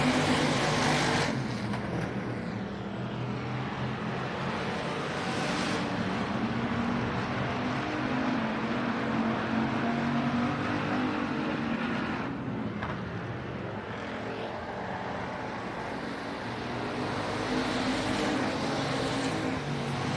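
Factory stock race cars run a heat race at Texana Raceway Park, a continuous distant engine roar from the pack that swells and fades as cars pass, with no talk.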